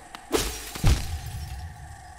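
Glass smashes in the Hollow Knight video game, two sharp shattering crashes in quick succession, the second heavier, followed by a brief tinkling decay over quiet ambience.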